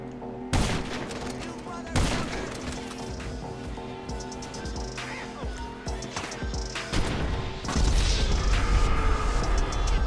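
Gunfire in the Grand Theft Auto game near the Vinewood sign: a loud burst of sharp cracks and bangs, then scattered shots and a dense, rumbling volley toward the end, over constant game ambience.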